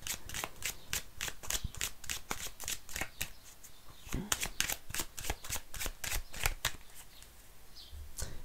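Tarot de Marseille cards are shuffled by hand in quick rhythmic riffling bursts, close and crisp, repeating steadily throughout with faint room tone between.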